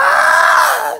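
Woman gives a single loud, sustained scream lasting about a second, starting at full strength and then tailing off abruptly into silence.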